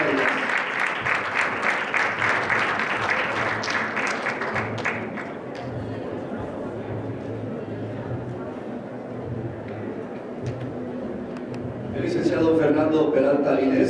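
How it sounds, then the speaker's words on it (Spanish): Audience applause at a round table of the 2016 International Congress of Municipal Sport, a crowd clapping at a moderate distance with a voice talking over it, swelling louder again near the end. "Fuerte el aplauso para ellas."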